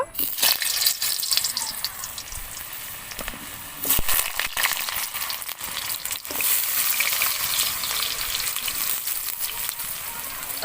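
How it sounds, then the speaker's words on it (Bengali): Potatoes frying in hot oil for a rice and egg biryani give a steady, close sizzle with crackling pops and occasional stirring clatters, with brief speech over it. "তারপরে আমি আলুগুলো ভেজে নেব।"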